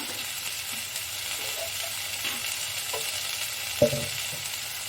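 Chopped tomato and green chilli frying in a pan with mustard paste nearby, a steady hiss of sizzle under occasional soft stirring scrapes and one brief clink near the end.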